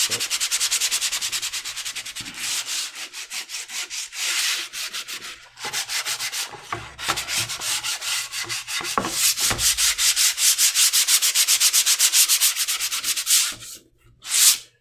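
A wooden paddle hand-sanded with 100 grit sandpaper, close rhythmic rasping strokes in a fast back-and-forth pattern, briefly pausing and resuming, with no talk.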